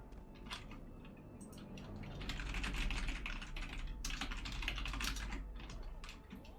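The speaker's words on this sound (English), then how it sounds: "You can hear all my click-clacky keys." Clicky computer keyboard keys clatter in fast, irregular bursts of typing, close and fairly loud, with brief pauses between flurries and no talking.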